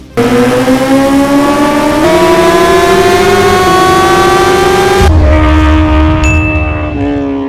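A modified 330-horsepower Kawasaki H2 supercharged motorcycle engine revs loudly and steadily up close, holding a sustained high-rpm tone that climbs in steps before dropping back with a shift in pitch near the end.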